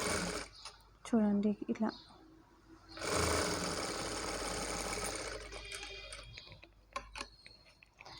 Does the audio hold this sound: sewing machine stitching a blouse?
yes